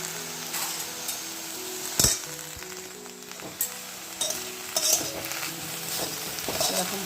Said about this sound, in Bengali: আমি সুন্দর করে ভেজে নিয়ে আসছি